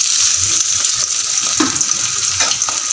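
Cumin, garam masala and onion sizzle in hot oil, a loud continuous bright frying hiss with occasional stirring scrapes close by.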